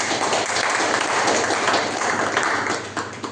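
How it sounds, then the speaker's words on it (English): Steady applause from a meeting audience honoring the Toastmaster of the day at a Toastmasters club session, dense and continuous clapping filling the room throughout, tapering slightly at the end. "Please give a big round of applause for the Toastmaster of the day."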